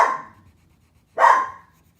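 A dog barks twice, two sharp single barks about a second apart, fairly close and loud in an indoor hallway, with no talking.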